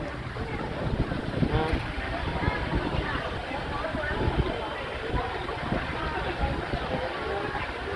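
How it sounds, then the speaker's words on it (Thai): Strong wind roars and buffets against the microphone during rain at an outdoor agricultural fair, a constant rushing noise with gusty swells, with voices faintly mixed in underneath. "โอ้โหจะลมแรงมากเลย"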